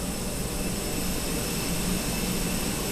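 A TAP airliner's jet engines during pushback: a steady, dense roar with a faint high whine, constant and loud throughout with no pauses or talk.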